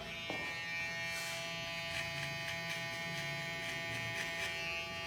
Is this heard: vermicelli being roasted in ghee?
no